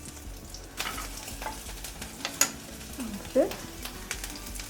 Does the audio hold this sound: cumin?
yes